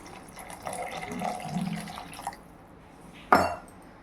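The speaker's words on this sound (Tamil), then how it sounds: "இப்போ தண்ணி சேர்த்துருவோம்" Water splashes and trickles into a cooking pot of banana flower kurma for a couple of seconds, followed by a brief clatter; no speech.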